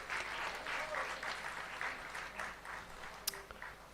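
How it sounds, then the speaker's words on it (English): An audience at a Mayapur Institute anniversary celebration gives a round of applause, fairly quiet and slightly distant clapping that pulses unevenly and thins toward the end, with one sharp louder clap near the close. "So please give them a big round of applause again."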